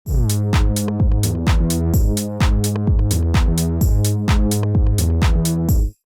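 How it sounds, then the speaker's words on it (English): Reese bass synth preset from Serum, made from basic oscillator shapes, plays a sustained, buzzy pattern of held notes in a steady rhythmic loop, loud and alone before cutting off. "So the next bass is the Reese Bass."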